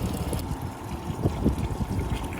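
Water returns through a red hose into a bucket while a tankless water heater is flushed, a steady close trickle and splash with a constant pump hum underneath.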